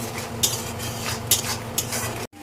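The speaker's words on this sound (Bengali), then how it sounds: "এবার ভালো করে কষিয়ে নেব" Boiled rajma being stir-fried with salt in a pan, soft continuous sizzling with three sharp scrapes of a spoon against the pan, ending in an abrupt cut to silence.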